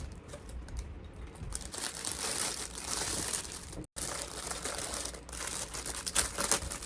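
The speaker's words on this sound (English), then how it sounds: "I'm going to unwrap this little bow top carefully" Crinkling and rustling of packaging as a small gold-foiled bow top is carefully unwrapped, a close, quiet stream of papery crackles with one brief pause.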